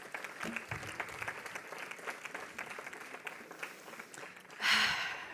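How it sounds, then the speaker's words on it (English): Faint, distant applause from an audience at an award ceremony, a soft continuous patter of many hands, with a louder swell near the end. "please give yourselves a round of applause and acknowledge yourselves"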